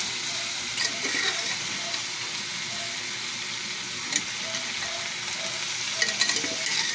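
Food sautés in a pan, a steady bright sizzle with a few louder crackles and stirring scrapes scattered through, close and continuous with no talking.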